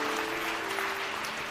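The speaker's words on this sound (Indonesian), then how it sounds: "tepuk tangan saudara" A church congregation applauds during a sermon, a soft, diffuse wash of clapping with a faint steady tone beneath it and no voices over it.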